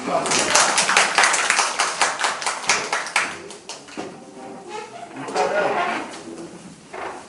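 An audience at a workshop applauds, a dense burst of many hands clapping that swells, thins and picks up again, with people's voices mixed through it.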